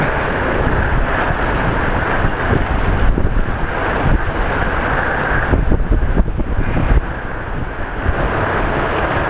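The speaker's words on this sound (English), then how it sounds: "now it's raining so hard we can't see" Heavy rain pours down in a tornado-warning storm at Daytona Beach, a dense, loud and steady roar mixed with wind buffeting the microphone through the whole stretch, with no talking.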